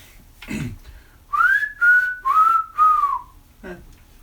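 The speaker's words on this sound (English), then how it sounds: "That's a man who knows how to whistle" A man whistles a short tune of four sliding, clear notes in a row, close and loud, with brief rustling before and after.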